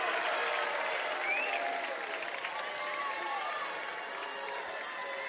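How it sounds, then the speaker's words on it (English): A crowd at a 6A boys high school soccer championship match reacts to a foul call with a steady, distant wash of murmuring and jeering that holds throughout. "Davis crowd doesn't like it"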